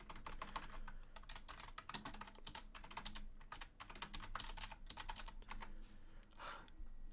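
Quick, uneven clatter of computer keyboard typing, close and continuous, with irregular bursts of keystrokes and short pauses between them.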